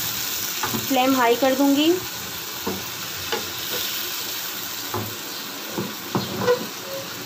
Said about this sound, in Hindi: उसके बाद मैं इसमें गोश्त को ऐड करूंगी